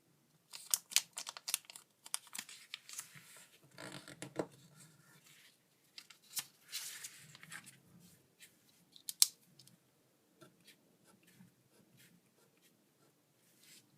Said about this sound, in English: fold the bottom edge up to that middle valley fold